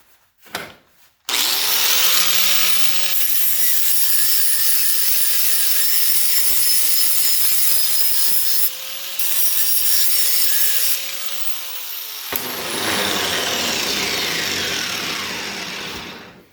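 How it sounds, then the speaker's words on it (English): An angle grinder grinding down welds on sheet metal: a loud, sustained high whine with harsh abrasive grit, close up, briefly easing mid-pass, then spinning down to a fading whir. "just sets it up on the very top of the weld and start grinding it down, working your way across, working your way back"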